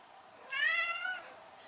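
A cat perched across a person's shoulders in a kitchen gives a single drawn-out meow, close and clear against a quiet room.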